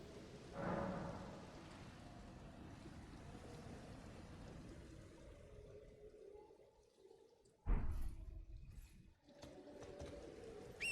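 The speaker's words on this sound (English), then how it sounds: "Kinda sucks that it's raining" Rain falls in the video game Elden Ring, a faint, steady hiss throughout, broken by a brief swell early on and a sharp louder burst toward the end.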